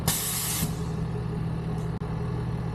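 Air suspension on a modified Infiniti Q50S airing up, a loud sharp hiss burst for about half a second followed by a steady compressor hum.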